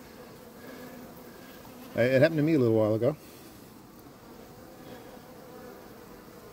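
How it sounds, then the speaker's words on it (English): Honey bees hum in a steady, soft drone from an open hive during a honey harvest, continuing under and after a short stretch of speech. "those are nice young bees too"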